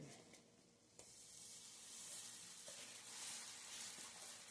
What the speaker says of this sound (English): I don't know if you can hear that sizzle, but it sounds good.